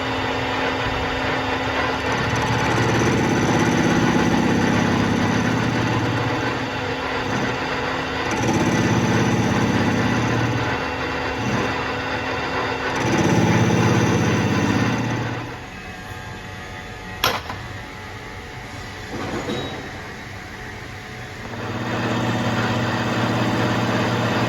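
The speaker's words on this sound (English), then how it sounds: "Now we're going to get it in the lathe and bring it back down." A lathe turns a welded Land Rover transfer box intermediate shaft, a steady mechanical whir and motor drone with repeated louder cutting passes that swell and fade, plus a sharp metallic tick partway through, and no talking.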